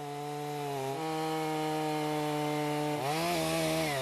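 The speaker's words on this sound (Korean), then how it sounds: "전기톱을 다루는 것도 무척 능숙해 보이시죠?" A chainsaw engine drones steadily, its pitch dipping and rising as it bites into timber for a treehouse build in the mountains, loud and continuous, no talking.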